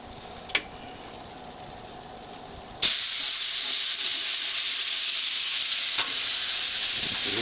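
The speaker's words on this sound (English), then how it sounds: "we're gonna deglaze the pan with a little bit of beef stock" A hot pan deglazed with beef stock for a stew erupts into a loud, steady hissing sizzle that holds to the end, after a few quiet stirring clinks and one sharp knock.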